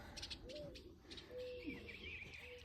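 A faint bird cooing and chirping near goats on a farm, with short thin calls over a steady hiss of background noise.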